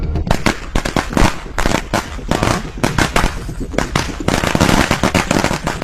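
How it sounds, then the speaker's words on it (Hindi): Firecrackers burst in rapid, uneven volleys of loud sharp cracks, close and intense throughout, packed into a Bollywood film action scene with brief gaps between the strings of bangs. "अरे एरिया में पटाखा कौन फोड़ रहे रे?"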